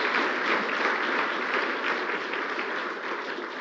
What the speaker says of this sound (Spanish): Aplaudile al Señor.